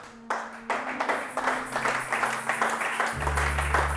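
A church congregation breaks into rhythmic clapping during a sermon, many hands applauding close and steady, joined by a low sustained tone near the end.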